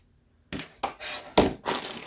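Material from a yard sale bag is pulled apart and cut, giving four distinct dull thunks and snips spaced across a couple of seconds after a short quiet start, close and fairly loud.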